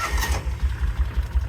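Engine of a 1995 Kawasaki Mule KAF620A utility vehicle cranking over, a steady pulsing starter rhythm of low chugs repeating roughly every fifth of a second, close and loud, with no voices.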